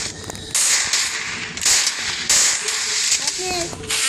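In the Free Fire video game, a thrown grenade goes off in several sharp, hissing bursts of blast noise while someone talks.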